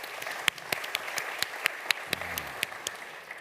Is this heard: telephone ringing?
no